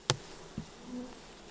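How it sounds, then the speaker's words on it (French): Black bees at a newly installed hive give a few close, brief buzzing passes: a sharp buzz near the start, a second shorter one, then a lower drawn-out hum, against a quiet outdoor background. "On travaille exclusivement avec de l'abeille noire."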